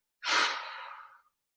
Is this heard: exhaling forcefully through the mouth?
yes